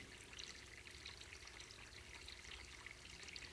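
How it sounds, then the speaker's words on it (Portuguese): Flowing water for meditation, a continuous soft pouring and trickling stream, steady and quiet with no voices. "Meditar perto de água é muito importante, portanto, também temos esse som."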